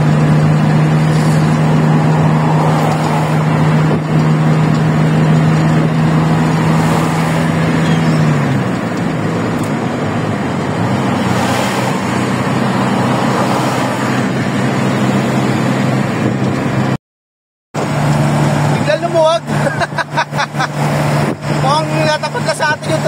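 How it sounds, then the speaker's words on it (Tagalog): Trucks and cars move along a congested Mindanao road, a loud, steady traffic rumble with a low engine drone that fades midway, a brief dropout, then a busier stretch of passing vehicles. "Mga truck."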